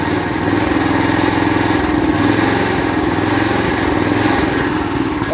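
A 420cc Predator engine on a go-kart runs nearby with a loud, steady, uneven chugging, its rhythm faltering slightly as it struggles to keep running.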